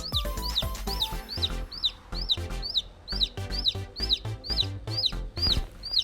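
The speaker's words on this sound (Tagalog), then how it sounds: "meron tayong 5 bagong-bago, fresh na sisiw" Newborn chicks chirp in a steady run of bright, rising peeps, repeating about twice a second close to the mic, over low thumps and rustling.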